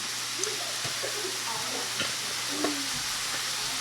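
Vegetables and garlic fry in a pan for a pantry stir fry, a continuous bright sizzle with occasional scraping stirs, while a person talks throughout over it.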